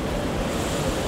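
Waves and wind on the open Atlantic wash and roar outside the research vessel Celtic Explorer, a dense, steady surge of surf close by with no voices.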